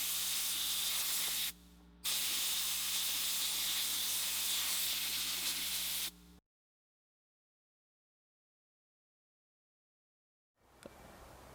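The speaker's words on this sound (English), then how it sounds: "then I'm going to use some of the leftover 2K clear coat and spray it." A spray gun sprays leftover 2K clear coat onto a bead-blasted spot in loud, steady hissing bursts, a brief pause mid-spray, then a long silence before another burst starts.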